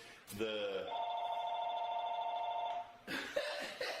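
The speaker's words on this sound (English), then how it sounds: "Pick up the phone, see if someone's there." A home telephone rings with a sustained electronic trill lasting about two and a half seconds. Voices and a brief noise follow once the ringing stops.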